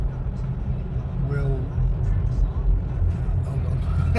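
Steady low road rumble from inside a moving car, continuous throughout, with a person talking over it.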